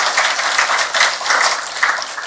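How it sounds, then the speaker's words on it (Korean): Loud, sustained applause from a crowd at an award ceremony, a dense patter of many hands clapping continuously. "큰 박수 부탁드립니다."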